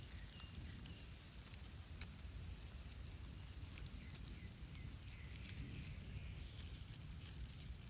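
Light rain falling outdoors among leaves where beetles shelter, a faint, steady patter and hiss with scattered soft drops throughout.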